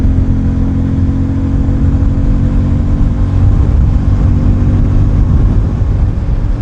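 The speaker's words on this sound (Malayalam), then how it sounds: "exhaust not change ചെയ്യുന്നുണ്ടാ" A Bajaj Pulsar N250 motorcycle with a 249cc air-oil cooled engine runs up close, its exhaust giving a loud, steady low rumble that holds through the whole stretch without dropping away.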